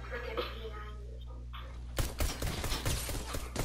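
Rapid bursts of pistol fire in a Gun Game video game match, a string of sharp cracks after a quieter stretch of in-game ambience and low hum, with some talking mixed in.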